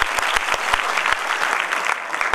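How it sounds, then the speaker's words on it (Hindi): Loud, dense applause from an audience in a meeting hall, sustained clapping with sharp individual claps standing out throughout. "जोरदार ताली।"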